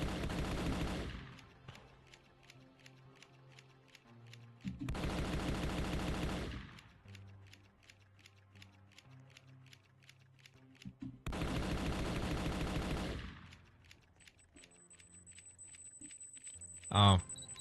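Long bursts of rapid automatic gunfire in the video game Final Stand 2, three loud sustained volleys separated by quieter stretches where a voice talks.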